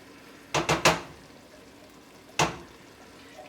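Canned vegetarian beans in tomato sauce scooped out of the can into a cooking pot: three quick, soft clunking scrapes close together, then one more after a pause, with no talking.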